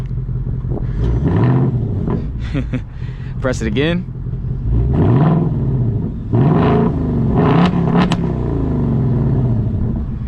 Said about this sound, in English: this is just the stock active exhaust that come with the car